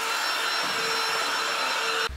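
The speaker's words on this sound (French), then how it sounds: "Ah mais j'ai un petit aspirateur." A small vacuum cleaner whirs steadily and fairly close for about two seconds with an even high hum, and cuts off abruptly at the end.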